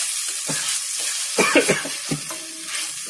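Chili paste sizzling and spitting in a hot pan for Malvani-style vada pav, a loud close frying hiss broken by stirring scrapes, with no voices.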